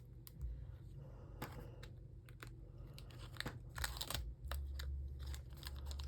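White backing being peeled gently off paper cardstock for a floating-frame card, giving soft crinkling, tearing crackles in short irregular bursts close by, with no talking.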